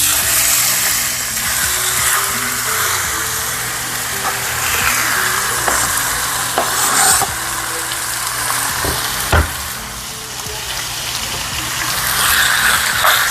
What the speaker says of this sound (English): Ready for the sizzle?